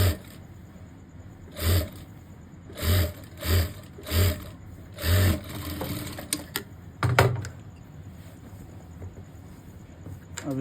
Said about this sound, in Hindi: और बराबर सिलाई लगाई